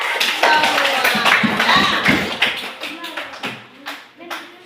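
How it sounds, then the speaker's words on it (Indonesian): A classroom group in Indonesia claps hands together, brisk and dense at first, then slowing into separate claps that fade out, with some voices mixed in. "Tepuk tangan buat kita semua."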